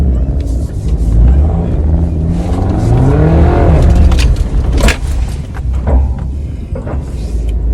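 A Suzuki Jimny JB74 takes an off-road obstacle with momentum: the engine strains and revs up and down close by, with sharp knocks and thumps from the vehicle as it crawls and lurches over the terrain.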